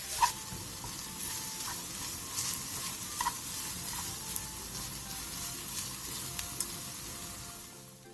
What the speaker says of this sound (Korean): 마른 팬에 오징어를 넣고 중불에서 오징어의 물기가 날아갈 때까지 볶아주세요